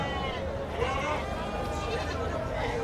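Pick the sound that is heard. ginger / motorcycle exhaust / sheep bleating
sheep bleating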